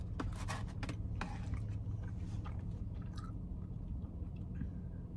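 Someone chews a Crumbl cupcake up close, with soft, moist squishing and light clicking bites in an irregular rhythm, quiet and with no talking.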